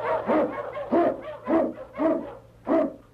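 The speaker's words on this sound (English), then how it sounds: "King, the swiftest, strongest of Eskimo lead dogs, blazes the trail through storm and snow" An Eskimo lead sled dog barks in a steady series of five or six loud, close barks, evenly spaced, with no talking.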